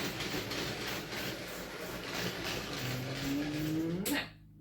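A model train rumbles and clatters steadily along the track, then a rising whine as it slows and the sound cuts off abruptly.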